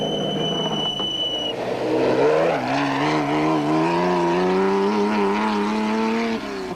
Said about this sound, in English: Still leading the vehicles were Bux Carolyn and Kenny Skolthammer in their Castrol Raceco.